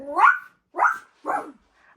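A voice mimics a dog, giving three short, close barking yelps in a row, then a faint fourth.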